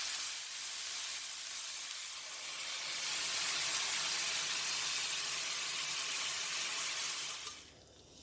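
Pork chops simmering in green salsa in a pan give off a steady hiss and gentle sizzle that runs for several seconds, then drops away abruptly near the end.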